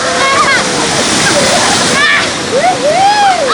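The Severn bore tidal wave surges up the river as a loud, constant rush of water, with excited voices shouting over it throughout.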